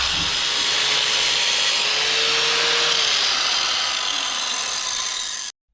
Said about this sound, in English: I'm going to sand this down now to get all the sharps off of it and the splinters